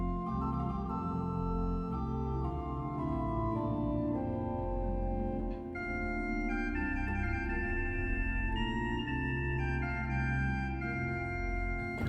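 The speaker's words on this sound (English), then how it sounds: "You can combine the flutes with the quint to make it a solo voice" Flute stops combined with the quint on the Bovenkerk Kampen pipe organ, forming a solo voice that plays a sustained melodic line over held lower chords, steady and full throughout with one brief dip midway.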